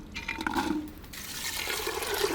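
Water poured into a pressure cooker over soaked mochai (field) beans and beetroot, a steady splashing and gurgling fill lasting a couple of seconds, close and fairly loud, with no talk.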